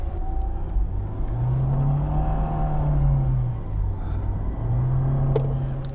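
A Lada Niva 4x4 engine revving under throttle, close and loud, with a low rumbling drone that rises and falls in two long sustained pulls.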